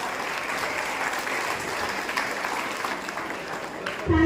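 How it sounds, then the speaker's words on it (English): Audience applause in a hall at a school model United Nations conference, sustained and even clapping from a large crowd held for several seconds, with a voice starting right at the end. "Can we have a huge round of applause?"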